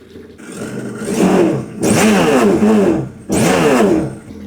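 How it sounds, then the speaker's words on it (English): A jet ski engine runs on a marine flush with fresh water circulating through it, revving up in three loud surges with brief dips between them, close by. "now I'm going to turn this and let the soap start flushing through, or the marine flush"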